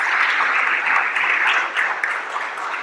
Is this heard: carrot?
no